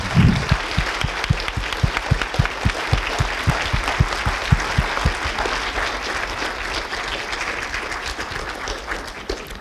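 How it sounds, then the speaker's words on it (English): Sustained applause from a lecture audience honouring Professor Haynes after a talk on free will and mind-reading, with dense overlapping claps that start strong and hold steady for nearly ten seconds. "let's applaud Professor Haynes once again"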